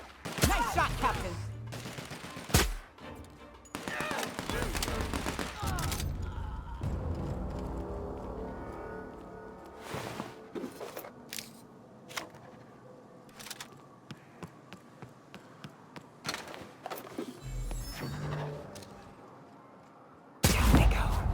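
Gunfire in The Outer Worlds: repeated bursts and single shots, some loud and close, others sparser, spread through a long firefight with in-game voices and impacts between them.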